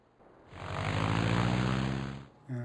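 A propeller fighter plane engine from a WWI-style flight combat game swells into a loud, steady drone for about two seconds, then cuts away briefly before another engine tone returns.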